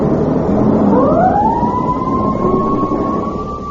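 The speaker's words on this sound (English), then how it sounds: "those are the sounds of the school bell and fire engine" A fire engine siren rises and holds a steady wailing tone, loud and close over a rumbling background, while no distinct school bell stands out.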